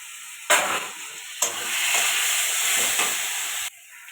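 Ground dried chilli and cumin paste sizzling in a hot pan, a loud steady hiss that flares when stirred, in bursts, with a faint high whine behind it.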